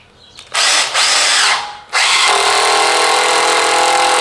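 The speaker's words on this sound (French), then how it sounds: "Et là, je vais visser donc directement sans prépercer." A cordless impact driver bought from AliExpress drives a screw straight into material without a pilot hole, giving a loud, sustained high-pitched whir with two brief dips early on before it runs steadily to the end.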